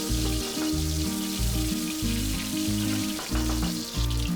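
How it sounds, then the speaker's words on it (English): Mustard seeds and cumin seeds frying in hot oil in a pan, a dense continuous sizzle and crackle with rhythmic low thumps from stirring or pan movement, close and fairly loud, no voices. "Add 2 teaspoon mustard seeds, 1 teaspoon cumin seeds and fry it for few seconds."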